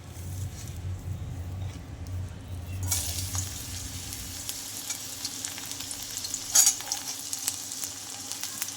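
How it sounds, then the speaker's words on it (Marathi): Crushed garlic frying in a pan over a medium flame while making a puffed-rice chivda, a steady close sizzle that grows louder and brighter partway through, with occasional stirring. "तर लसूण आपण आता फ्राय करून घेणार आहोत।"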